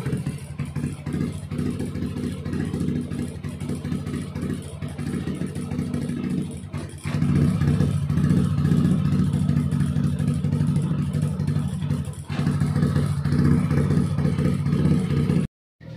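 A Yamaha NMAX scooter engine running during a test of an unstable module that keeps cutting out, a steady close mechanical drone with brief dips and shifts in level partway through.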